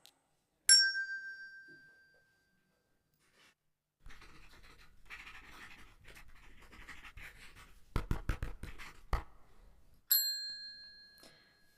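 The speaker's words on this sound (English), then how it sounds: "Team B has already pressed the bell" A quiz buzzer bell rings twice in a classroom game, each a bright single ding separated by several seconds, with scratching and rustling noises and a few sharp knocks between the rings.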